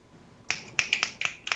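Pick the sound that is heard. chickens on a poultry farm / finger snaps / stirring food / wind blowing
finger snaps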